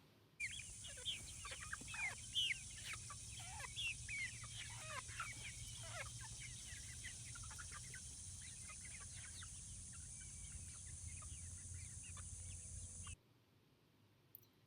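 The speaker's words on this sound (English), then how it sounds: "I'm going to insert a video of the chickens." Chickens cluck and chirp in a steady scatter of calls, with a constant high insect drone beneath, ending abruptly near the end.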